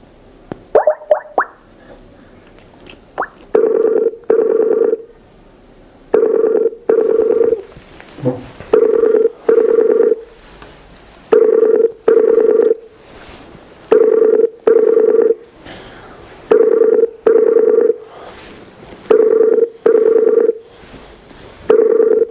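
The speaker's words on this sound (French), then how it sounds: "Rappelons-le sur Skype." A Skype call goes out, first with a few short dialing tones and then a long series of evenly spaced ringing tones with regular pauses, loud and clear, with no talking.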